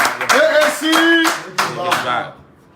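An audience claps in uneven bursts while a voice keeps talking over the applause.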